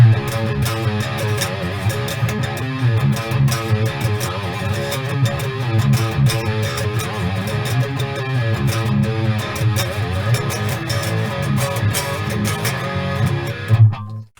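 A distorted electric guitar runs through a Joyo Zombie II XL tube hybrid amp head with reverb, playing dense, loud riffs and chords continuously for about fourteen seconds before stopping abruptly.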